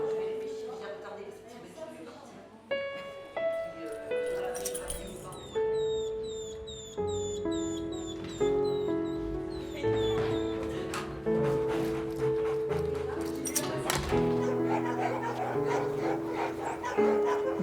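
Dogs in an animal shelter bark, yip and whimper in repeated bursts, close and echoing against a steady musical backdrop.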